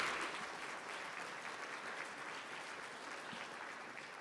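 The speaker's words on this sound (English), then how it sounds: "Round of applause for all of you for those wonderful donations." Audience applause at an awards gala, a steady wash of many hands clapping that fills the room at moderate level and holds evenly from start to finish, with no voices over it.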